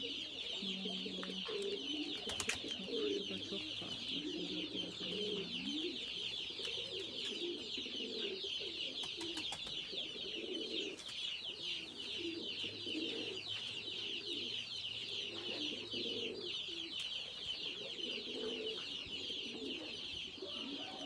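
A flock of pigeons coos in low, repeated murmurs over a steady bed of chirping birds in the yard of an unused house, with an occasional faint knock; no voices.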